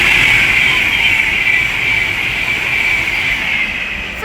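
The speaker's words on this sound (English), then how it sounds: "The next train to pass by is going to be a London Northwestern Railway lot of class 350s." A London Northwestern Railway class 350 electric train rolls steadily past nearby at Leighton Buzzard on the West Coast Main Line, a continuous rumble with a bright hissing whine that holds level before easing slightly at the end.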